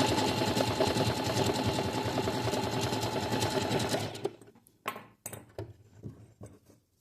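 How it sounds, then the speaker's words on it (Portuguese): Sewing machine running a straight seam for a French seam finish, a steady close whir with rapid rhythmic needle stitching for about four seconds, then stopping and giving way to a few faint handling clicks. "E agora é só passar uma costura reta"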